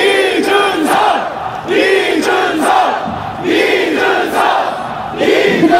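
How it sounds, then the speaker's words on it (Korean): A large campaign-rally crowd cheers and shouts loudly in surging waves, the roar swelling and easing several times with no speech over it. "여러분 박수와 함성을 보내주십시오"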